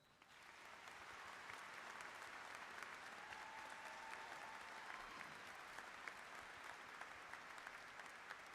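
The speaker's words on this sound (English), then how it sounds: "Another big round of applause." Commencement audience applauding at a university spring graduation ceremony: a large crowd clapping in a sustained, even roar that holds steady throughout, distant and spacious in a big hall, with no speech.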